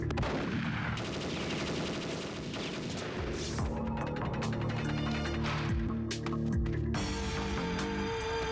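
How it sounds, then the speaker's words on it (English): Gunfire in the Nintendo 64 shooter Perfect Dark, with dense overlapping shots and rapid bursts over a continuous loud game soundtrack, booming and crackling throughout with no speech. "Venge Sim and Kazi Sim are down. Oh, gotta reload."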